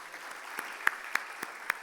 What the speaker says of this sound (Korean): 우리 인사할 때 한번 박수할까요?